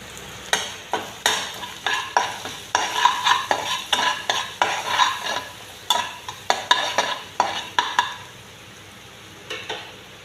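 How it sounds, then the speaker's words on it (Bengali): Spices with coriander powder fry in a pan under a soft sizzle, while a spoon stirs in repeated rhythmic scraping strokes about twice a second. The strokes come close and clear, then thin out near the end. "মশলা সব বাজা বাজা হয়ে গেছে এখন আমি এর মাঝে এক চামচ ধনিয়ার গুঁড়া দিলাম"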